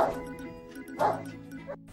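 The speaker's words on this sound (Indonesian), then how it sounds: "Sundance terus menggonggong karena ingin buang air" A dog in the film Click barks and yips repeatedly, needing to go out to relieve itself, with two loud bursts close up separated by softer whimpering sounds.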